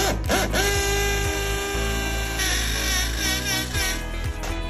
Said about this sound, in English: Now I'm gonna drill my pilot holes for my lag bolts